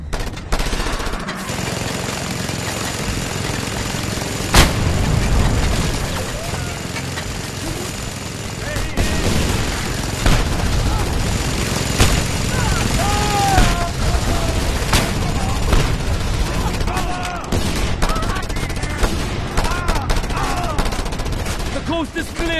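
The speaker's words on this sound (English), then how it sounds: "Look out! Mounted gun!" A mounted gun firing in the open-world video game Just Cause 2, a dense continuous chatter of automatic fire with occasional heavier booms, loud and sustained throughout alongside game voices and background noise.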